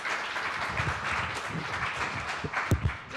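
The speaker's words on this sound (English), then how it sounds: "Let's give her a round of applause." Applause from an audience at a talk on building a data culture, a steady wash of clapping that stays moderately loud throughout, with a few louder claps or knocks near the end.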